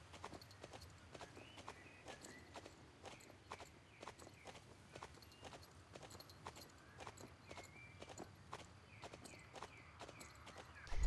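A horse trotting through corner ground poles at a show, steady clip-clop hoofbeats in an even two-beat rhythm, moderately close, with faint background noise throughout.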